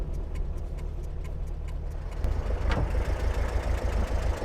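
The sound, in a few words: Speedster car engine idling roughly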